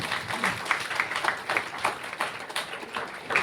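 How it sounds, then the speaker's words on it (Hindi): An audience claps at a closing event, with moderate, somewhat sparse applause and distinct individual claps standing out over a low crowd murmur. "मैं चाहूंगा ऐसी संस्था के लिए WPL के बाद जोरदार तालियां हो जाए"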